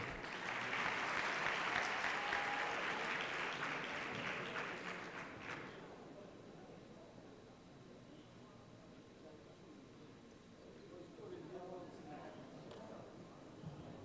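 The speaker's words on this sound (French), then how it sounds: "Je pense que ça s'applaudit." An audience applauds at a digital convergence event in Djibouti; the dense clapping lasts about five seconds, then fades into a quieter room with a speaker talking.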